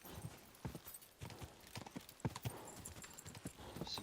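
Horse hooves clip-clop in Kingdom Come Deliverance 2, a quick steady run of close hoof strikes with a brief whinny and faint background ambience.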